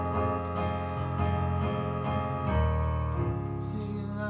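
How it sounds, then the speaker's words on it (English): Chords are struck quietly once each and left to ring out on a soft keyboard-like instrument, a few gentle sustained chord changes, faint and close with no talking. "I'm just very quietly hitting the chords once and letting it ring"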